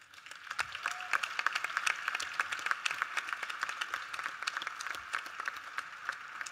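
The audience at a 2023 Springfield MLK Day celebration gives a steady round of applause, with many hands clapping continuously for several seconds at moderate loudness.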